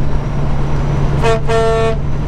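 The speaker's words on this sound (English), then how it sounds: "That moment when you honk at a train and they honk right back" A train horn honking back at a farm vehicle during harvest: two loud horn blasts, one short and one longer, cutting over a steady engine rumble.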